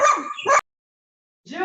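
Dogs bark and yip loudly and close by in two bursts separated by a pause of silence, heard in the background of an online hearing.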